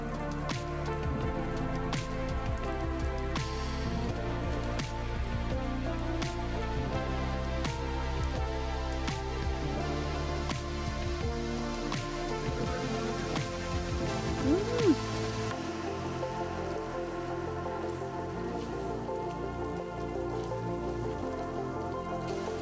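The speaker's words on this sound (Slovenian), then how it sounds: "Ni panike, sam dežuje." Rain patters onto a tub outdoors, a steady close drumming of drops on the surface, with faint distant music running beneath and one brief louder knock midway.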